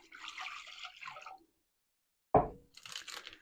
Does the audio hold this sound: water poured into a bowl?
yes